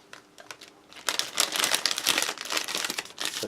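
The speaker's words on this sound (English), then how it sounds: "get this accessory pack open and see what else we have inside" A plastic MRE accessory pack being torn open, with close crinkling and crackling that starts light, then turns loud and dense as the packet is pulled apart.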